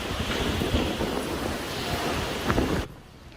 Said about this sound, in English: Wow, did you hear those winds?